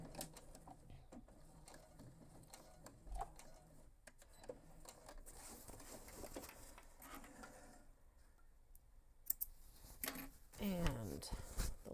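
A sewing machine stitches a backpack, running in short back-and-forth bursts of back stitching. The motor whirs quietly, and a voice is heard now and then.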